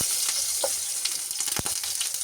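Eggplant slices frying in hot oil give a loud, steady sizzle with crackles and pops, plus a few soft scraping stirs.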